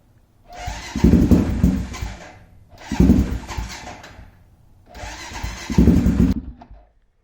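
A Honda 400EX quad is cranked from cold in three long starter bursts, each a loud whirring churn that fails to catch, with short pauses between attempts.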